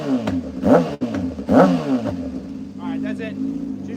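A Honda CBR 600 sport bike engine revs in two sharp rising bursts, each falling back, then settles into a steady running drone, with a voice talking over it.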